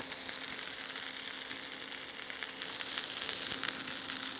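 A burger fries in oil on a solar-powered cooker, giving a steady, busy sizzle with frequent spitting crackles throughout, close and fairly loud with no talking.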